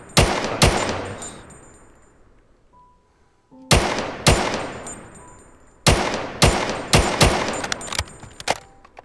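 G3 rifle in a Minecraft Bedrock mod firing in bursts: two sharp shots, a pause, then a rapid volley of several loud, close cracks, each trailing off in a short echo.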